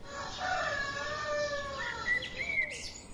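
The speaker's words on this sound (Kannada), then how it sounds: "ಪ್ರತಿನಿತ್ಯ ಆ ಕೋಳಿ ಸೂರ್ಯೋದಯವಾಗುತ್ತಿದ್ದಂತೆಯೇ ಕೊಕೊಕೋ ಎಂದು ಕೂಗುತ್ತಿತ್ತು" A rooster in a 2D cartoon crows one long, drawn-out cock-a-doodle-doo, fairly close, over a soft background hiss.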